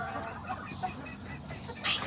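Soft, intermittent clucking from a small flock of chickens, several of them molting, heard up close with a low steady background and no talking.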